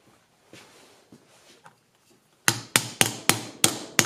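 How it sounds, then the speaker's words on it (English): A metal mini milling machine gear is tapped onto its keyed shaft through a PVC plumbing fitting, giving six sharp, close knocks at a steady pace after a few quieter taps and handling noises. "It's lined up with the keyway and tapped into position."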